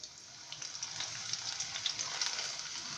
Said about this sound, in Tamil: இப்போ இந்த சைடும் நமக்கு வந்து நல்லா ஃப்ரை ஆகட்டும்.